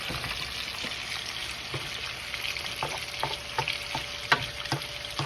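Garlic sizzling in oil in a pan, a continuous bright hiss broken by scattered crackles and pops, close and steady with no talking.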